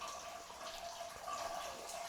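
Faint, continuous hiss of water running from a tap that cannot be shut off in a women's restroom at Claredita Falls, a soft steady splash with no voices.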